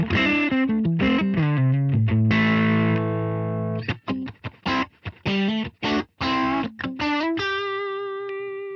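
Distorted electric guitar on the neck pickup, played through a ToneX amp capture: saturated chords and choppy muted stabs, then a ringing sustained chord, loud and close with no voices.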